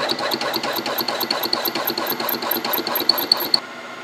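A metal lathe cuts the pouring mandrel for a restored cane mill at a fifty-thousandths depth of cut, giving a steady close whirring chatter with a rapid rhythmic ticking throughout, then easing off near the end.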